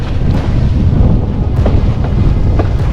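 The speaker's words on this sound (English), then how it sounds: "I'm glad to say there's still wind." Strong wind roars and buffets across the microphone while windsurfing off Hayling Island in Langstone Harbour, a steady loud rush with low rumbling gusts and faint splashes, no voices.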